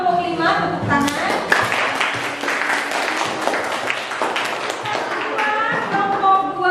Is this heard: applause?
yes